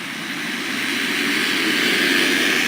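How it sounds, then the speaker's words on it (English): A pack of about 29 motocross bikes revving together at the starting gate and launching, a dense, loud, steady roar that swells slightly over a few seconds with no talk. "revs are up, gates down, here we go."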